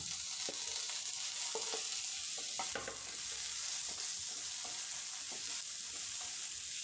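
Green chilies and mixed vegetables fry together in a pan for vegetable pulao, giving a steady close sizzle with scattered scraping stir strokes and small crackles throughout.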